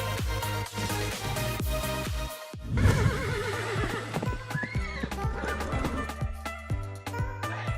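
Sumbawa horses whinny in a loud, quavering neigh midway, set among a busy mix of background tones and sharp clattering hoof-like clicks.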